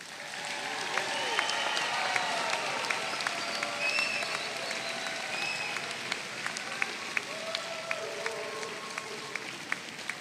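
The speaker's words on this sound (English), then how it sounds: "Please give them one more round of applause." Audience at a technical institute commencement applauding the graduating class, a broad, steady wash of clapping from a large crowd in a big hall, with scattered cheers and sharp claps on top, lasting about ten seconds.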